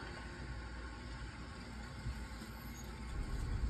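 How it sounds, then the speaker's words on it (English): A residential boiler fires up once a heating zone valve opens, giving a steady, fairly loud low rumble and broadband roar that holds constant for several seconds with a slight swell near the end. "it'll operate the boiler. If it works, it's going to sound like this."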